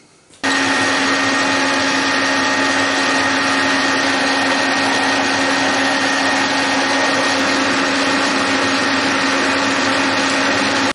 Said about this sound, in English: I'm gonna cut at the lowest feed rate with coolant and see if I still have this lines pattern or not.